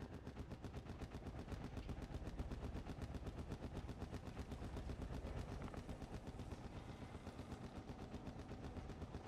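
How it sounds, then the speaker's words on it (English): Rapid automatic gunfire from the video game Call of Duty DMZ, a dense, continuous stream of loud shots rattling without pause for the whole stretch, with no talking over it. "I can't tell where he's shooting."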